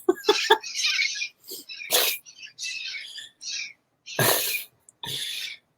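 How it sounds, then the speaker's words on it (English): Green parrots in a residential neighborhood, giving loud raspy squawks and screeches in irregular bursts with short gaps between calls, fairly close. "Those are the green parrots that live in our neighborhood."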